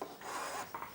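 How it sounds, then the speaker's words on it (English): A surface is finished by hand with fine 400-grit sandpaper, giving a soft, quiet, continuous rasping rub with a brief pause near the end. "The final sanding is done by hand."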